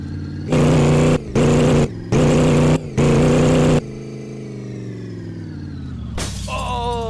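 A project car running open headers blips its engine in four loud, close, blocky revs, then settles into a rough idle and climbs again with a rising whine near the end.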